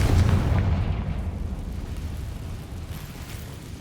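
A Confringo fire-blast spell in the Hogwarts Legacy video game: a deep, rumbling explosion that is loudest at the start and then rolls off into a long low roar.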